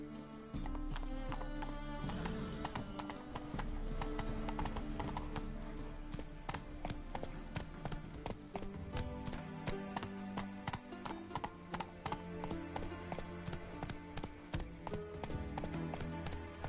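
Roach the horse trotting in the Witcher 3 game, a steady run of clip-clop hoofbeats over continuous background music, with a brief whinny and some talking.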